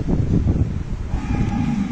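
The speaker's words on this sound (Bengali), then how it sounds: "একটি শাহিওয়াল জাতের গরু।" A Sahiwal cow at a cattle farm gives a low, steady moo that carries close and fairly loud through the whole moment, with a little wind on the microphone.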